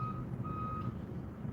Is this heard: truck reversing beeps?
yes